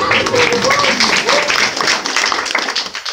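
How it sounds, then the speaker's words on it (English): A fundraiser crowd claps and cheers in a lively round of applause, loud and near at first, with voices mixed in, then thinning into scattered claps that fade out. "Give her a round of applause."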